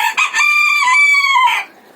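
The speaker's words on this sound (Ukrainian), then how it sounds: "Ось оця червона квочечка" A red broody hen on a village farmstead gives a loud, close, drawn-out call lasting under two seconds, sounding alone without talk.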